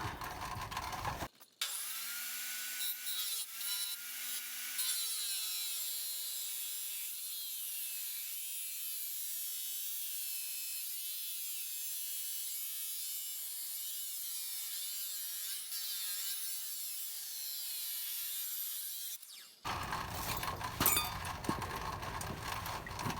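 A chop saw makes the last cut in steel for a VW bus rotisserie build in a dark shop, throwing sparks. The grinding rasp runs loud and steady for about eighteen seconds, with clatter before and after.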